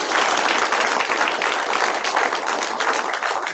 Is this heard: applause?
yes